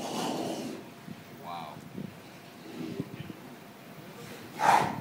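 A sea lion snorts and huffs in a few breathy bursts, the last one loud and close, against outdoor wind noise with a faint murmur of people nearby.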